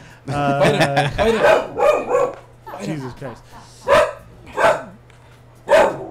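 A dog barks repeatedly during a live talk show, someone speaking loudly first, then several short, close yaps spaced about a second apart with faint whimpers between them.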